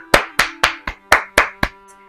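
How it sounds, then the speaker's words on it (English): Seven crisp, close hand claps in a steady, even rhythm, each sharp snap ringing briefly before the next, during a children's story time. "Give yourselves a clap."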